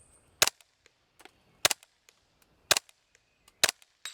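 An H&K G36 rifle chambered in .22LR fires at a steel plate about 100 yards out, four sharp, evenly spaced reports roughly a second apart, each followed by faint echoes, with no talk.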